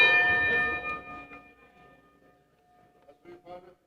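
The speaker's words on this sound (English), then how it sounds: "Ring the bell!" Ring bell struck to open a wrestling match, a single bright metallic clang that rings out and slowly decays, with a commentator's voice over it and more talk following.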